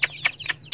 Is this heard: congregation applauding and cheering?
no